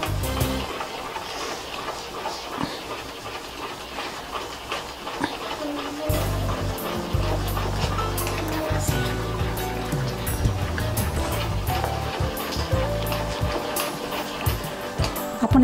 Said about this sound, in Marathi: आणि परत हे बॅटर आपण हलवून घ्यायचं.